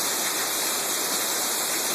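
Heavy rain pours down during a thunderstorm over a golf course with trees bending in the wind, a steady, loud, dense hiss that continues without a break and has no talk over it.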